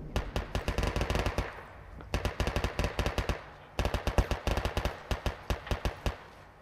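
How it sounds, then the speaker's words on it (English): Rapid bursts of automatic gunfire in a video game crackle in three volleys separated by brief pauses, sharp and close. "the sound of gunshots and freedom happening literally behind me"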